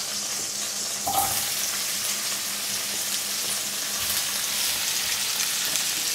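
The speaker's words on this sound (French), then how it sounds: "On va faire revenir donc dans la graisse toujours des morceaux de potimarron." Pieces of potimarron squash frying in rendered sausage fat in a pan, a steady bright sizzle and crackle throughout with a brief stir or scrape near the start, no talking.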